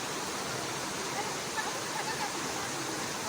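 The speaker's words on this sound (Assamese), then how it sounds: "এনেকৈ পাহাৰৰ পৰা নদীখন পৰি আহিছে ঝৰ্ণা হৈ" The Rupohi waterfall in Dhemaji, where the Subansiri river falls from the hills, gives a constant, even roar of cascading water, broad and steady throughout with no breaks.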